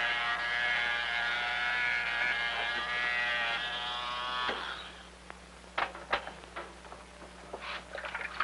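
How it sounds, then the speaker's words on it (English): A steady electric razor drones in a household room for several seconds, then stops, followed by a scatter of light clicks and taps. "My father's shaving."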